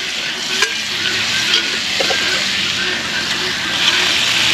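Loud, close sizzling of sausages in a hot cast iron skillet, a continuous crackling hiss with a few faint knocks and clinks of utensils.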